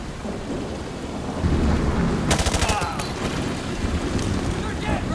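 In Call of Duty Modern Warfare 2 Remastered, rapid bursts of gunfire crackle against a rumbling, noisy battlefield backdrop, with a sharp cluster of shots midway and softer firing afterward.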